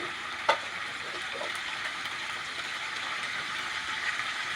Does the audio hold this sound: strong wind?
no